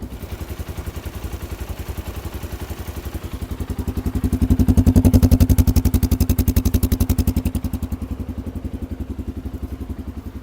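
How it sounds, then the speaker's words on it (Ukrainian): A warmed-up 2024 Kovi ADT 250 motorcycle engine idles steadily nearby with a fast, even chugging pulse, swelling briefly louder midway before settling back to a rough idle. "Ну що, запускаю двигун мотоцикла Кові ADT 250."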